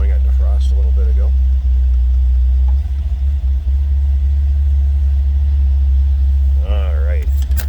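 A 1975 MG MGB convertible engine idles steadily with a low, constant rumble, with the choke pushed in, and a few brief voice sounds come through near the start and end.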